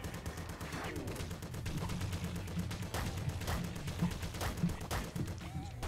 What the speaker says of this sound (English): Bugger off with your bouncy bullets as well, you.